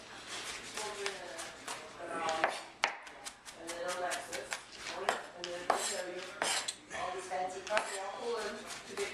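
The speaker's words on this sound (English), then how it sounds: "I'll run my knife through one more time." A kitchen knife chops garlic on a cutting board in rapid, crisp repeated taps, close and prominent, while a person talks over the chopping.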